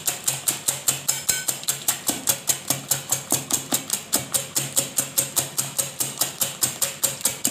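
Eggs and vanilla being whisked together in a bowl: a steady, even train of quick, bright strokes, about three a second, close and continuous throughout with no talk.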